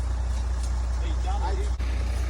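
A truck rumbles with a low, steady engine drone at a house construction site, close and continuous through the short moment, with a brief hiss near the end and a voice talking over it.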